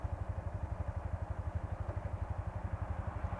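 A TVS Apache RTR 160 4V motorcycle engine runs steadily while the bike stands still, giving a close, loud, evenly pulsing low thump with a throaty rumble and no voices over it.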